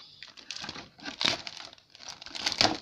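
A plastic bag snagged on a model kit sprue crinkles and rustles up close in several uneven bursts, crisp and fairly quiet.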